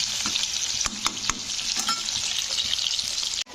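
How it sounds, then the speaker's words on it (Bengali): Cut potatoes fry in hot oil, making a loud, continuous close sizzle with a few clacks of stirring against the pan, no voices. "এগুলোকে একটু লাল লাল করে ভেজে নেব।"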